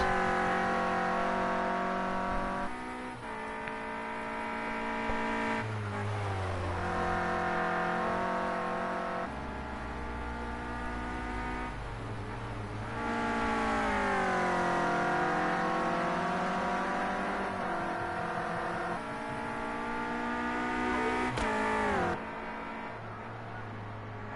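Clio Cup race cars lapping the Brands Hatch GP circuit, engines revving and sweeping up and down in pitch through gear changes, loud and steady for most of the stretch with a brief drop-off near the end.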